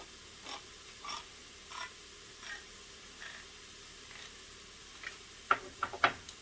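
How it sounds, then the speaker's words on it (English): A can of diced green chili being opened for Brunswick stew: faint, evenly spaced mechanical clicks repeat at a slow pace, then a few sharper, louder clicks close together near the end, with no voices. "And a diced green chili. Let's open it."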